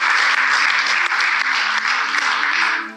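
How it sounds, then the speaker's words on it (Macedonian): A game show studio audience applauds a contestant with dense, loud clapping that holds steady for a few seconds before tapering off at the end. "Аплауз за Милена"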